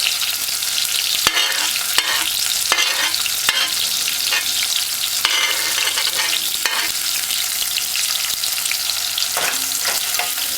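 Scallion and garlic frying in a pan for a Jamaican salt mackerel run dung, a loud close continuous sizzle broken by sharp clicks of a utensil stirring.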